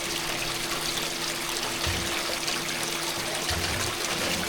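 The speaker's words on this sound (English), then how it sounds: "We're going to add some Dawn dishwashing soap." Dawn dishwashing soap poured into water in a gold prospecting micron machine setup, a soft continuous trickle and splash under a steady machine hum, close and without talk.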